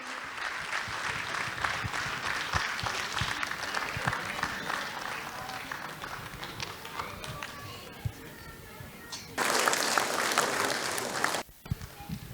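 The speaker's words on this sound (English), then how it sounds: "Can we have a really big round of applause for the start of today?" Audience applauding at a preschool annual day, dense clapping that fades somewhat midway, then surges louder for a couple of seconds before cutting off abruptly.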